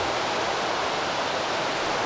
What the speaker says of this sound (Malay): dia macam dam, ada air turun itu